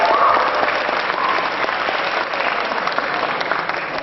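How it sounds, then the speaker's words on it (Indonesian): Dense, steady applause from a stand-up comedy audience at a live show in Malang, filling the whole stretch at an even, loud level with no voice over it. "Makanya tepuk tangan dong buat orang-orang pendek."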